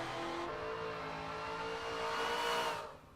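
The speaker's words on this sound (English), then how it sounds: "Listen to how loud the supercharger is under power" A supercharged muscle car in Forza 7 accelerates hard, its engine note and loud supercharger whine climbing steadily and staying loud for nearly three seconds before dropping off abruptly near the end.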